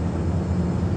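A steady, close broadband roar of a passenger plane's engines heard from inside the cabin in flight, constant and unbroken with no voices over it.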